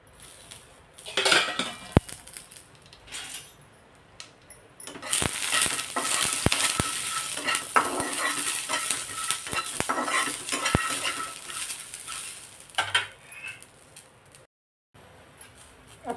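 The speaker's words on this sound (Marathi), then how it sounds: "आता हे शेंगदाणे आणि मिरची छान आपण थोडंसं तेल टाकून" Peanuts and green chillies roasting in a little oil in a pan, a spatula clattering and scraping against the metal in busy bursts over a soft sizzle, close up with no talk.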